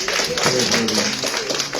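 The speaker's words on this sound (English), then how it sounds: "Give them a round of applause again, ladies and gentlemen." Audience at a Jamaica diaspora conference gives a round of applause, a short, dense wash of many hands clapping together, steady and fairly loud throughout.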